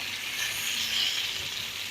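Young potatoes sizzle and fry in a pan, a steady, close hiss of crackling oil running unbroken throughout with no voices.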